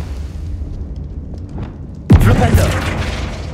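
A Confringo fire spell explosion in Hogwarts Legacy bursts with a sudden loud boom that rumbles and crackles for over a second, following quieter game ambience.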